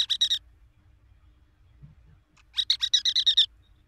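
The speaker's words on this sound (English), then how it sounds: "It's a chirp." A bird of the West Indies gives a quick burst of about five bright chirps, then after a pause a longer run of about nine, close and clear over a faint low background hum.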